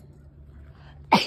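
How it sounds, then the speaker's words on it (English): One sharp, loud human sneeze bursts out at the end after a quiet stretch of low background hum. "I'm sneezing."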